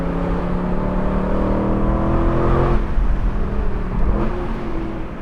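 An Aston Martin V8 Vantage S Roadster climbing a canyon road, its V8 roaring loud and close with a droning growl that shifts pitch partway through as revs change.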